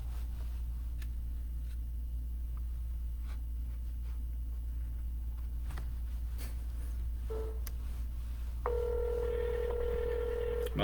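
A phone number is dialed for a real estate cold call, a short run of touch-tone beeps in the latter seconds over a steady low hum and faint clicks, with no talking.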